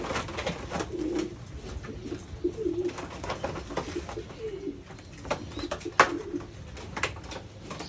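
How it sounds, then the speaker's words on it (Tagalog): Pigeons in a loft coo repeatedly in low, soft, overlapping calls, with occasional wing flutters and rustling, nearby and without talk. "Itlog lang na binitbit galing Japan. Ngayon kalapate na sila."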